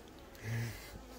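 A brief, faint buzz of a Buckfast honeybee or wasp at a beehive swells for a moment and fades, against quiet outdoor background.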